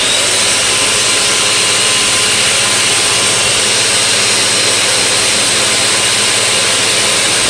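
Air blasts from a nozzle at about 55 CFM toward a paper cup, a loud, steady, close hiss-roar of rushing air that holds constant throughout without talk.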